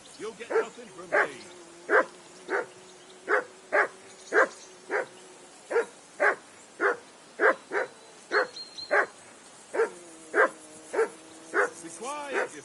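Dog in Kingdom Come: Deliverance II barking repeatedly in a steady, evenly spaced rhythm, about twenty sharp barks at close range, ending in a few higher whining yelps.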